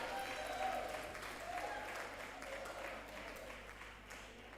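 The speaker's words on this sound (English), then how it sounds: "Please clap for yourself." Audience at a women in chemistry event applauding, a soft, distant patter of clapping that stays fairly steady and fades slightly toward the end, with a low background hum underneath.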